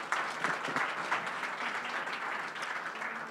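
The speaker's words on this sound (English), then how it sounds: "Clap." At a startup pitch event, an audience claps steadily for several seconds, a fairly even, moderately loud patter of many hands with no talking.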